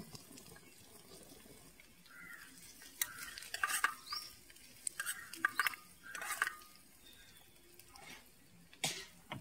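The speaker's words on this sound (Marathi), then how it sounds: "आता टॅमॅटो टाकले त्याच्यात. आणि मेन म्हणजे आता तेल उडता अंगावर" Tomatoes go into hot oil with softened onions in a pan and sizzle and spatter, with scattered bright crackling pops and scraping stirs over a low frying hiss, close and moderately quiet.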